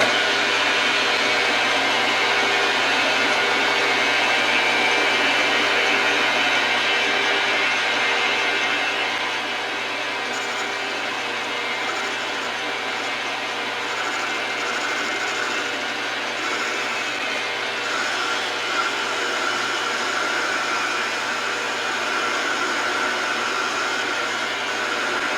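A metal lathe runs steadily while new cutting tools are tried out, a continuous mechanical whir and hum with faint grinding texture holding at an even, moderate level throughout.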